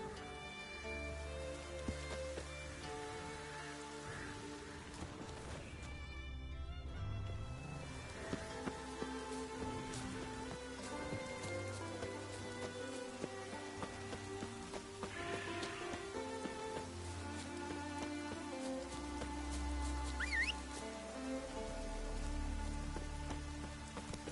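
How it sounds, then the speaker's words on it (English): Rain falling in The Witcher 3, a steady patter of drops on surfaces under a continuous musical score, the downpour holding at an even level throughout. "Looks like rain."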